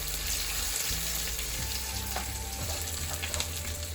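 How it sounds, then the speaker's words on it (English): Chilies fry in a little oil for a tadka, a steady close sizzle and crackle running throughout with faint clinks from the pan and no voices. "Allow it to nicely cook the chilies in little bit of oil."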